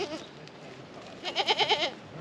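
Goats at a goat farm on Norfolk Island bleat in wavering, quavering cries, a short faint one followed by a louder trembling bleat, heard outdoors at moderate distance.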